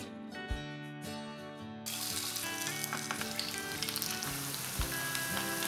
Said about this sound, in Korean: 물기를 제거한 배추를 반죽에 입혀 구워주시면 됩니다